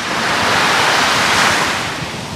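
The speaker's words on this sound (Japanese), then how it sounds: "この波の音聞いてるだけでもすごいなんか癒し効果あるからね" Ocean surf breaks on the shore of a seaside beach park at sunset, a steady, loud wash of rushing water and hiss filling the whole moment, with some wind on the microphone and no voices.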